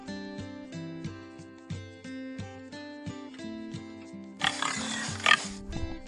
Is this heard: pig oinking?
yes